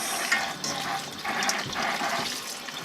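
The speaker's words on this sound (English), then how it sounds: "I'm just going to give the jackfruit a quick rinse" Running tap water splashes steadily over jackfruit being rinsed in a sink, close and continuous, with small shifts as it is handled.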